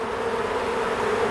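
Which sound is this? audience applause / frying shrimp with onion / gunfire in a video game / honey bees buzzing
honey bees buzzing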